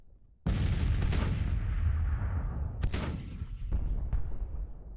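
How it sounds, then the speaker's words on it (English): Heavy Civil War artillery in the strategy game Grand Tactician: The Civil War booms loudly and alone, with a big opening blast followed by several more cannon shots and rolling rumble between them. "Whole lot of artillery opening up."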